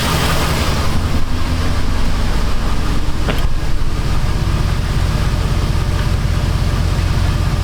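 A steady, loud Jeep engine idle rumbles continuously with a deep even exhaust drone, close by and unbroken, with no talking.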